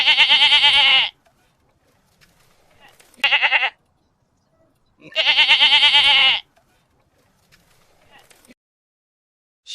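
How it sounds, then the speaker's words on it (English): A goat bleats three times in loud, quavering calls with silent gaps between them. The middle call is brief and the last one is longer. "Goat."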